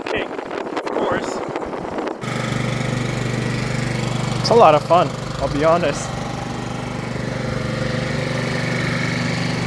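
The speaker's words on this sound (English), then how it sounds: "We're gonna be mobbing on a scooter." A moped scooter engine drones steadily while riding, with wind rushing past the microphone and someone talking briefly over the hum.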